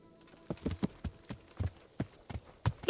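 Horse hooves clip-clop in the video game Kingdom Come: Deliverance, about ten distinct, fairly close steps in an uneven walking rhythm over a low ambient hum, with no voices.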